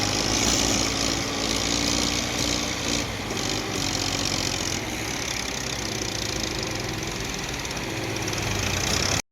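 A tractor engine labours steadily under heavy load while trying to tow a stuck vehicle out, with a new driver at the wheel. The loud, continuous rumble and knock run close and unbroken throughout, with no talk.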